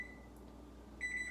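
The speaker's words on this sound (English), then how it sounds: "we are going to set our timer" A kitchen timer beside an oven gives a faint, thin electronic beep, then a second, slightly longer beep about a second later, over low room hum.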